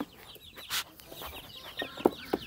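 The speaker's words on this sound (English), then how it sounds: "How about you just hurry up and get those other chickens out?" Several chickens cluck in short, scattered calls, with a couple of sharper, louder clucks near the end, amid faint background noise while they are moved on peacock moving day.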